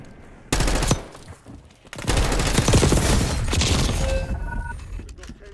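SMG fire in a video game rattles out in rapid sustained bursts, loud and close, one short burst and then a longer continuous stream with a few mechanical clicks at the end.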